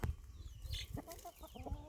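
Mixed-breed coop chickens cluck and chatter together while being fed, a close, busy flock sound with overlapping short calls and no talk.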